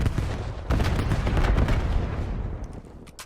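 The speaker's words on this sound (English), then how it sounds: "Enemy sniper working." Enemy sniper gunfire in a video game: a dense, continuous barrage of sharp shots and booming impacts, loud and close, with a heavier burst near the start that slowly fades toward the end.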